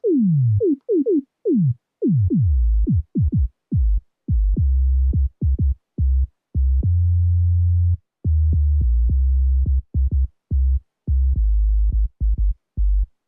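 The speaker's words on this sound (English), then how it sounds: "very, very quickly going from a high pitch to a low pitch, and essentially that is giving it a bit more of a thump" A deep synthesized sub bass repeats in short thumping notes, each starting with a very fast downward pitch sweep; a few longer sustained low tones appear, no voices.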